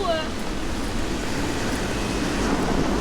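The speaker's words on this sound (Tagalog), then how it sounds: "sobrang lakas yung hangin" Strong wind in Rotterdam, heard while cycling, roars steadily into the microphone with a low rumbling buffet, a continuous outdoor rush that never lets up.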